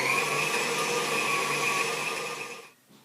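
An electric mixer whirs steadily on a higher speed setting, a loud continuous motor drone with a bright whine that holds for over two seconds before switching off abruptly.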